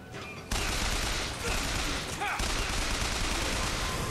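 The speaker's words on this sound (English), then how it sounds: "Oh crap, that's a turret." Automatic turret gunfire in Bioshock Infinite, a dense, loud, sustained burst that kicks in after a brief pause and rattles on to the end.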